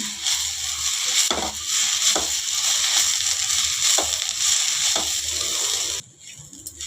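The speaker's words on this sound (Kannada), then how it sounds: "ಸ್ವಲ್ಪ ತೆಂಗಿನಕಾಯಿ ಹಾಕ್ಕೊಳೋಣ ಅದ್ರ ತುರಿದಿರೋದು ಮಿಕ್ಸ್ ಮಾಡ್ಕೊಳೋಣ ಚೆನ್ನಾಗೆ" Grated coconut being stirred into cooked avarekai palya in a hot pan, a steady sizzle broken by several rhythmic scraping strokes of a spoon, close and loud, fading abruptly near the end.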